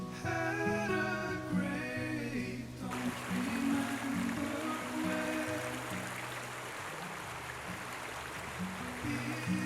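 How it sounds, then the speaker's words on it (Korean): Svartifoss waterfall in Iceland, framed by black basalt columns, gives a steady distant rush of falling water, faint and continuous, partly overlaid at the start by a tonal musical sound. "검은 폭포라는 이름을 가진 스파르티 포스."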